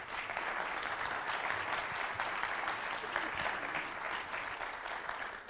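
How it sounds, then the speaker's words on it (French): Steady, dense applause fills a full conference hall as an audience claps for an energy-company president at a corporate morning event, continuous and even throughout. "qu'on peut applaudir d'ailleurs"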